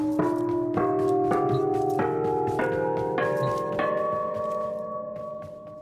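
The Lonesome Shawzin, a bamboo-looking string instrument from a video game, rings out like a bell: a series of about seven plucked, chiming notes with long sustains that overlap and slowly fade, played alone.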